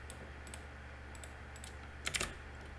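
A password being typed on a computer keyboard: a few quiet, scattered key clicks, then a quick cluster of louder taps near the end, with no talking.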